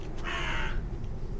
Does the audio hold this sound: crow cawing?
yes